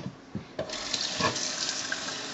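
Tap water runs into a glass jar to rinse out leftover flour, a steady close splashing stream with a few soft knocks of the jar.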